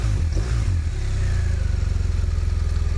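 A BMW R1200RT touring motorcycle engine runs steadily and close by, a deep throbbing idle with a rough, aggressive rumble that holds throughout.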